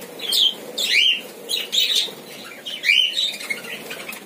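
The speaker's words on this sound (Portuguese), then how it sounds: "Aqui nesse viveiro hoje eu acabei colocando mais duas aves." Several birds in an aviary chirp in quick, bright bursts at close range, mixed with soft wing flutters and scuffling, with no one talking.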